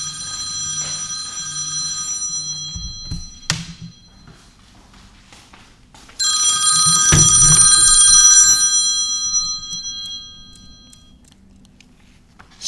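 A telephone rings in bright electronic trills, one burst early and a longer, louder burst in the middle, set against quiet low background noise with no talk.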